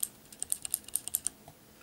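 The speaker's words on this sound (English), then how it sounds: "So of course this thing's going to be super loud when I'm typing at night" Typing on a Das Keyboard Model S mechanical keyboard with clicky Cherry MX Blue switches: a quick run of about a dozen sharp, close keystrokes, loud and alone, with no talk.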